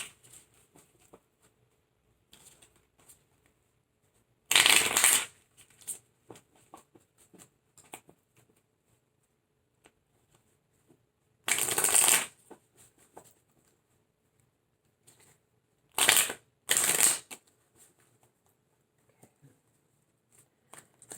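Tarot cards are shuffled in a few short, sharp riffling bursts, one near the start, one midway and two close together later, with quiet gaps of faint handling in between and no talk.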